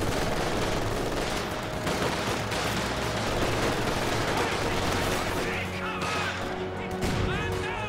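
An MG42 machine gun rattles in Company of Heroes amid a loud, continuous wash of gunfire and explosions, sustained bursts blending into constant battlefield noise with no clear pauses.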